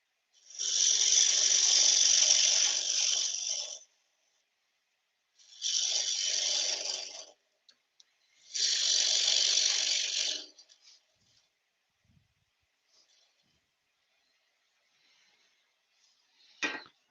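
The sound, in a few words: lathe turning a wooden tealight holder with a bowl gouge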